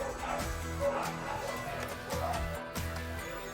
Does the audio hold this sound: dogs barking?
yes